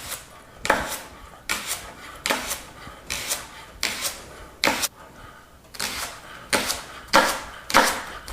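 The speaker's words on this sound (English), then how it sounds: "Begin by cutting off the top green part and the bottom root part and just slicing" A knife slices leeks into thin circles on a cutting board, with about a dozen crisp, close strokes in a steady rhythm and short pauses between them.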